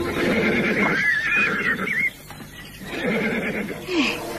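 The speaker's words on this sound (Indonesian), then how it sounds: "Sepertinya itu adalah suara kuda Bibi Ulan." A horse whinnies loudly and shrilly in a palace courtyard, a long wavering neigh followed by a shorter one, set against dense background noise.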